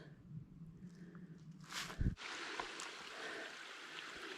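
Flowing water from a stream beside a hiking trail keeps up a steady rushing wash, with a brief thump and scuffing partway through as though from footsteps nearby.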